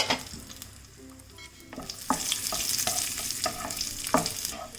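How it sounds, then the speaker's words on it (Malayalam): Cashew nuts and raisins fry in hot oil, a soft continuous sizzle with repeated clinks and scrapes of a spoon stirring the pan, close and fairly quiet, no voices. "അപ്പോൾ നമുക്ക് ഈ കാഷ്നട്ട് കിസ്മിസും കൂടി ഇട്ടിട്ട് ഒന്ന് വറക്കാം"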